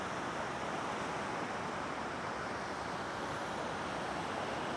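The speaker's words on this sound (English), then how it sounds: "So look at these waves. They just kind of keep rolling" Calm ocean waves rolling onto an empty tropical beach lined with Australian pines in Malaysia, heard as a soft, continuous wash of surf with no distinct breaks, steady and fairly faint throughout.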